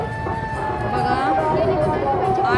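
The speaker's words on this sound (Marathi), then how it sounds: "फार गर्दी आहे असल्यामुळे बाहेरनंच दर्शन घेतलेलं आहे" A large crowd packs a temple festival for the goddess Aai Yedeshwari at Yedai's village, making a steady, loud din of mingled voices with a sustained tonal sound running through it.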